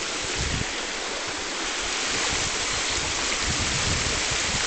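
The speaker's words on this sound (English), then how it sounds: "Look at that waterfall here." A waterfall roars steadily, a dense, broad rush of falling water that holds an even level throughout, heard up close with no voices.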